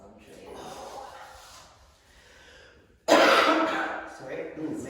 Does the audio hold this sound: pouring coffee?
no